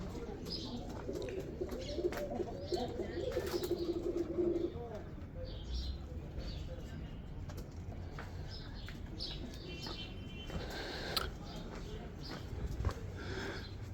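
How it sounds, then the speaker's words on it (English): Soft cooing of doves in the distance on Mount Zion, Jerusalem, repeated low calls early on, with faint chirps and scattered ambient noise around them. "Close your eyes, listen to the birds of peace."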